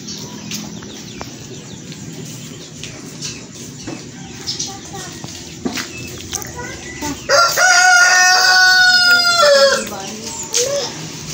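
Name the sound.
rooster crowing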